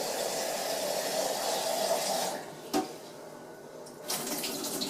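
Warm water runs steadily from a kitchen tap into a container, a close hissing flow that briefly cuts off and resumes with a splash, no voices.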